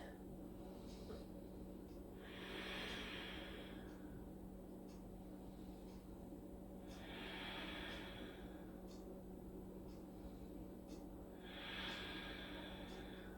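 Slow, steady yoga breaths during an at-home vinyasa session, three soft airy exhalations spaced about five seconds apart over a constant low hum, close and gentle with no talking.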